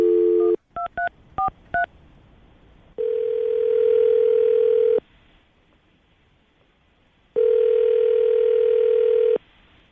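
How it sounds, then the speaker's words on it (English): An outgoing phone call: a quick string of keypad dialing tones, then two long, loud, steady ringback tones separated by a silent gap. "we're going to call him right now, see if we can get him on the phone"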